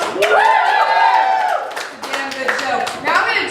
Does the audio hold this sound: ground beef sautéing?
no